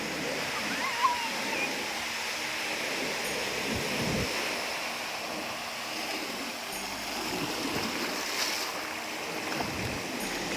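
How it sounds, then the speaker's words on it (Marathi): Sea waves roll in along the Konkan coast at sunset near a fort, a continuous broad wash of surf with gentle swells, steady and fairly close, with wind noise on the microphone. "या समुद्राच्या दुधाळ लाटा"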